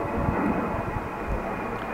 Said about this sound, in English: There's an airplane going up there.